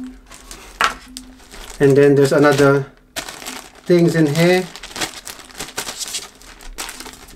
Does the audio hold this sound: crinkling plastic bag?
yes